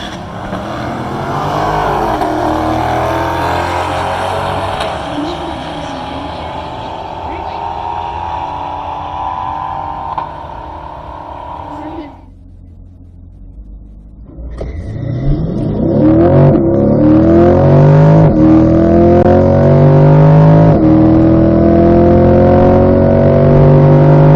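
A 2020 C8 Corvette and a Nissan GTR launch side by side at a drag strip, engines building to a loud rising roar, then a brief lull before a second surge of revving acceleration. A voice talks over the start.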